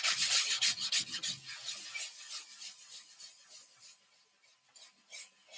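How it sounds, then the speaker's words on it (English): Sandpaper rubbed across a scratched maple tabletop, like a bakery table, giving repeated close rasping strokes that are loud at first and then ease into lighter, quieter scrubbing with no talking. "and all it takes is a little bit of sandpaper."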